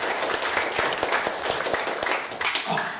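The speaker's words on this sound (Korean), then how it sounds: "여러분 힘찬 박수로 맞아주십시오." An audience at an international conference hall gives a burst of steady, dense applause to welcome a speaker, sustained clapping filling the room for a few seconds.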